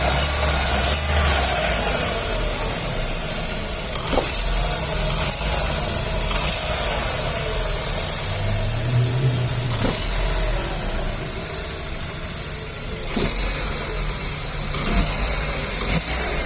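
Abnormal engine noise from a 2009 Chevrolet Astra, recorded close to the running engine: a loud, steady idle drone with a rough mechanical undertone and faint periodic ticks.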